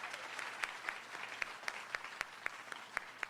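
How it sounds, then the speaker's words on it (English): A crowd at a key-to-the-city ceremony in Philadelphia applauds, heard as a soft, distant wash of clapping with a few sharper claps standing out at a steady pace. "Can we have a round of applause for when everything comes together?"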